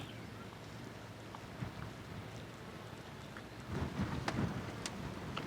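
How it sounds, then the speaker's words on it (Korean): Gusting wind roars over an open-air freshwater fishing spot, a steady broadband rush with a stronger gust building in the final seconds, with no voices. "와 바람"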